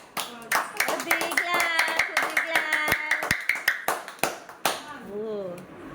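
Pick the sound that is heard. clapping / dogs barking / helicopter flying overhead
clapping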